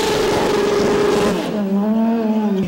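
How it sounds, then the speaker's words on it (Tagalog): A Lotus World Series race car driving through the city streets of Bonifacio Global City, its engine loud and close with a steady high drone that settles into a lower, wavering tone as it eases off. "Sakay ng kanyang Lotus World Series race car, ipinamalas niya ang kanyang galing nang libutin niya ang kalsada sa Bonifacio Global City"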